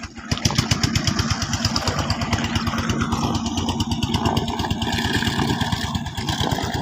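Trawler boat engine on the Rupsa River, a steady, loud, rapid mechanical chugging that runs throughout with an even rhythm, heard close and without talk.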